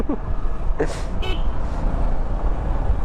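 A Honda CB350 motorcycle's horn gives one short, loud beep over steady road and traffic noise.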